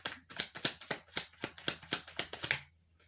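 Tarot cards are shuffled by hand in a quick, steady run of about a dozen crisp riffling flicks, close and clear, then stop abruptly.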